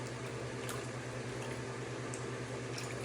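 Ceramic glaze is poured into a curved cake plate and swirled around, a soft continuous liquid sloshing and trickling with low steady hum underneath, fairly faint and without talk.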